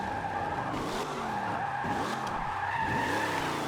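A classic muscle car in Forza Motorsport 7 slows under the brake and handbrake together, its tyres skidding and squealing continuously over engine noise for a few seconds. No one speaks.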